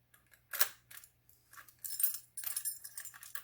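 Metal keys for an aged bronze Titan latch lockset jangle in several short bursts of clinking, fairly quiet and close, with no talking.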